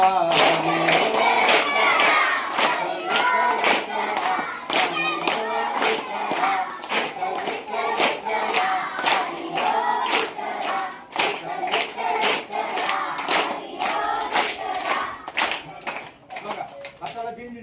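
Students in a school clap loudly in a steady, rhythmic beat while chanting together in unison, the sharp claps cutting through their voices for the whole stretch.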